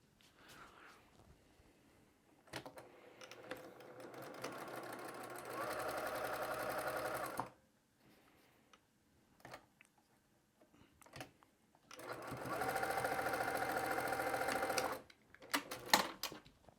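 A sewing machine chain pieces quilt fabric pieces in two long steady bursts of rapid stitching, separated by quieter pauses with brief clicks and handling sounds.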